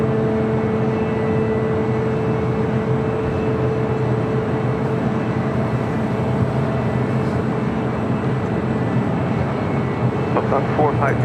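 A Boeing 737 airliner at LAX airport gives off a steady, loud jet engine rumble with a sustained tonal whine, continuous throughout, with radio chatter faintly mixed in.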